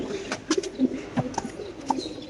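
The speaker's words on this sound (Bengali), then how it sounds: "খুবই সুন্দর দামাসিন কবুতর" A Damascene pigeon coos in soft, repeated low calls at a loft, close and moderately quiet, with light rustling around.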